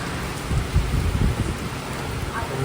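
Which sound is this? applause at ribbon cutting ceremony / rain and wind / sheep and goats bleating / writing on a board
rain and wind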